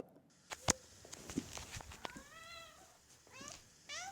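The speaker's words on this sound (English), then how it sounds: "I heard a cat cry out for help." A cat in a video game meows several times, rising and falling cries with a few soft thumps and footsteps between them, fairly close in a quiet space.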